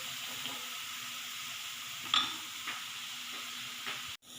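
A small splash of water hits a hot pan of Aceh-style beef skin with green chili, giving a steady close sizzle broken by a few soft stirring clicks before it cuts off.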